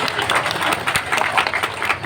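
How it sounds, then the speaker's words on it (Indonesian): A crowd at an outdoor community gathering in Sialang Rindang, Tambusai, Rokan Hulu claps together in a dense, lively burst of applause for the regent, close and sustained. "Tepuk tangan dulu dong buat Bupati panjenengan."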